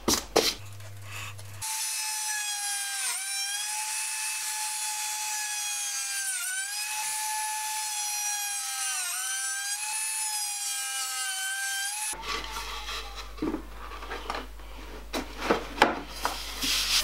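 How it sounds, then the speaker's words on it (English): Sanding a wooden storage basket lid produces a steady, rasping scrape that runs continuously for several seconds, framed by brief bumps and handling noises at the start and end. "I took the sanding outside"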